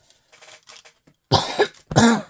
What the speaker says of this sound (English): Darn cough.